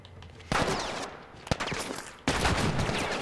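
Assault rifle bursts from The Last of Us, loud sharp volleys starting after a short quiet lead-in, a brief gap, a single crack, then another sustained burst of rapid fire at close range.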